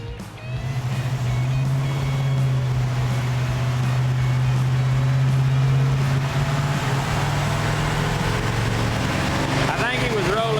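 An AMC Javelin muscle car engine roars steadily on a dyno, holding a loud sustained drone for several seconds before easing off, with voices in the background.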